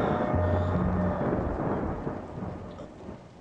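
Rain with thunder in a film scene: a dense, steady downpour hiss with deep rolling thunder rumbling underneath, loud at first and easing slightly toward the end, with no voices.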